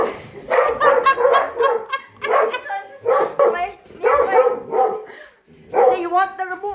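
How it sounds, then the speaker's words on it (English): Several excited dogs in a home bark and yip in short repeated bursts, loud and close, with brief pauses between volleys and some whimpering. "As you can hear, it's got the dogs all excited."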